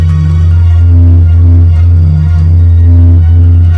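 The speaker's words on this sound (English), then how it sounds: "This is the sound of the sun." Sonified space recording presented as the sound of the sun: a loud, steady low drone with a faint recurring pulse, unbroken and continuous throughout, with no voices.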